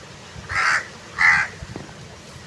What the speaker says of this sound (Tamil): காக்கா கட்டிகிட்டு இருக்கு